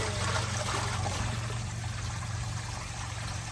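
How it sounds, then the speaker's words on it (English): Water gushes steadily from a freshly drilled artesian well beside a barn, a constant close rushing trickle with no pauses. "So it's our Artesian well."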